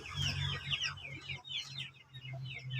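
A native chicken rooster gives close, repeated clucks in quick bursts with short gaps, over a low steady hum.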